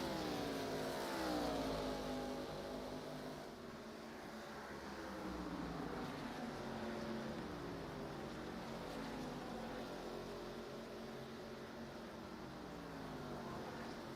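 ARCA Series stock cars race at Indianapolis Motor Speedway during the Brickyard 225. Engine drone holds steady throughout at moderate distance, with pitch sweeping as cars pass and rev, and no voices over it.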